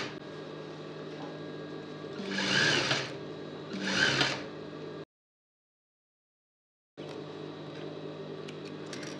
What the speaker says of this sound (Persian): ببینید میام لب به لب کار میدوزم.